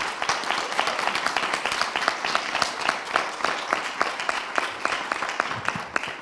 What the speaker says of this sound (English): I want to give an applause to the people who have committed to do this.